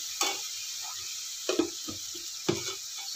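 Onions with ginger garlic paste fry in a pan for ghee rice, a steady soft sizzle broken by three louder bursts of stirring or scraping spaced about a second apart.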